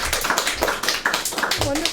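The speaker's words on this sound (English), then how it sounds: "Everyone give her a round of applause." Applause from a small audience right after a speaker introduction, with quick, dense clapping that is close and steady for about two seconds and rides over faint talk.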